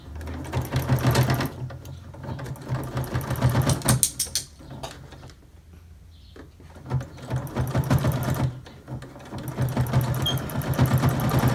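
A sewing machine stitches a pleat in a cloth face mask in rapid mechanical bursts, pausing briefly between runs, close and clear.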